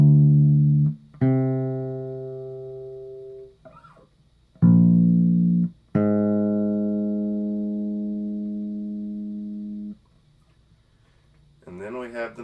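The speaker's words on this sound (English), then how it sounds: "And then we have the minor seventh," Bass guitar sounding a minor seventh interval: a low plucked note followed by a higher one, the pair played twice with long sustains, followed by a brief voice at the end.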